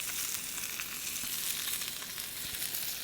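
A ribeye steak sizzles on a hot grill during a reverse sear, giving a steady, close, bright crackling hiss with no talking.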